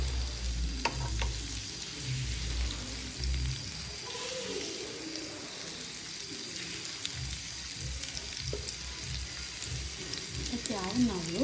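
Stuffed mussels frying in oil in a pan and being flipped over, a steady soft sizzle with scraping and clinks of turning, fairly quiet, with a person talking at times.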